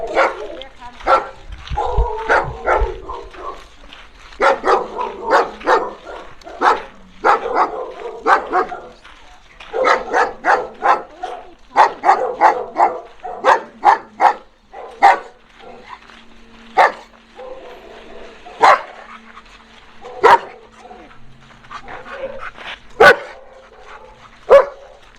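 Many dogs barking at an animal sanctuary, loud overlapping barks and yips in irregular bursts that thin out into single sharp barks, with brief human voices now and then.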